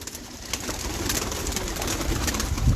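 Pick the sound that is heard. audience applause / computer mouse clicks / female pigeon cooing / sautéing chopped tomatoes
female pigeon cooing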